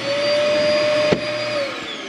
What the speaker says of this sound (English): Down here on the floor, your vacuum system, sweep everything here.